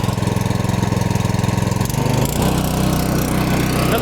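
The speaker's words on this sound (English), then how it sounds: "let's get this violent chipping machine booted up." The Honda engine of a Masport MC900 wood chipper runs steadily at close range, a loud, even mid-pitched drone with a throbbing pulse, its pitch shifting slightly partway through.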